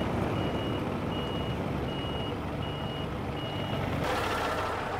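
A semi truck backing a trailer in gives a steady train of reversing beeps, about five evenly spaced, over a loud continuous diesel engine rumble nearby.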